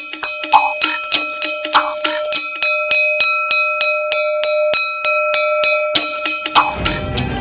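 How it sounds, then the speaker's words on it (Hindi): A school bell in Nepal is struck repeatedly in a quick, steady rhythm, its ringing tones layered and sustained, with some background noise at the start and end. "नेपाल में बजती है स्कूल की घंटी"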